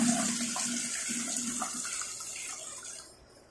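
Water poured in a steady continuous stream while mixing about 1.75 liters of fertilizer solution (urea, 14-14-14 or potassium), fairly loud and close, trailing off near the end.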